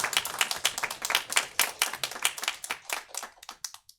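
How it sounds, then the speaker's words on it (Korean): A congregation applauds during a Sunday church service, a dense patter of many hands clapping steadily for about four seconds before thinning out at the end. "박수 한번 쳐줘요"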